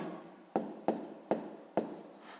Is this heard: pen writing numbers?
yes